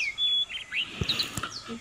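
Short bursts of bright, varied chirps and whistles from an oriental magpie-robin, a songbird known for mimicking other birds, sung clearly and close with quick rising and falling notes.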